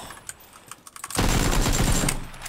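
Rapid automatic gunfire in a multiplayer shooter game: a few scattered shots, then a loud, sustained burst of fire that runs to the end.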